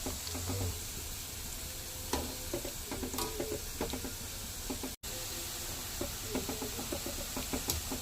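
Urad dal vadas frying in oil over a medium flame, a soft continuous sizzle and bubbling with occasional light taps of a utensil, close but fairly quiet.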